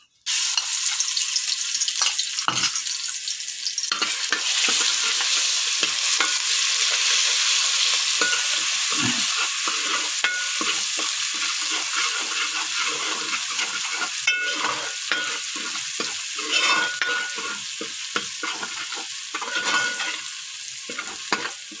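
Steady, loud sizzling of garlic and ginger paste frying in hot oil, with intermittent scraping and stirring sounds throughout.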